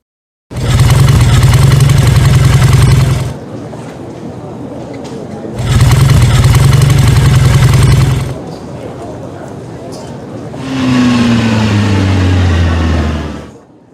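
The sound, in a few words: motorbike engine idling and revving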